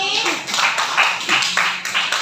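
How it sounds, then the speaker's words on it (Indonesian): A classroom of students gives short bursts of applause for a classmate at the front of the room. The clapping comes in uneven waves and sits close and loud, with children's voices mixed in. "Oke, beri tepuk tangannya untuk Bahi."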